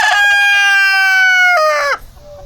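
A loud, close chicken call, a long drawn-out tonal squawk that bends and breaks off at the end, with no talking.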